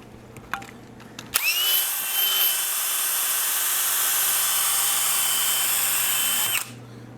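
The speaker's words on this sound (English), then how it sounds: "And then finally, I'll take a nylon brush." A nylon brush scrubs the base of a ski during tuning. A close, steady, whirring hiss starts abruptly and runs evenly for about five seconds before cutting off, with no voices.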